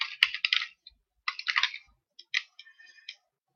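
Soft, quick key clicks come in uneven clusters as a user ID is typed on a computer keyboard. The clicks are close and quiet, with short pauses between bursts and no voices.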